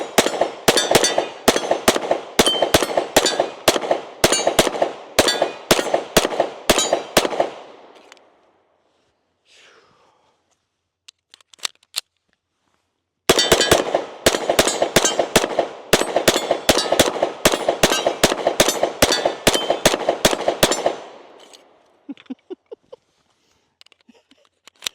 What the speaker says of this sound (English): Let's go ahead and shoot a little bit more.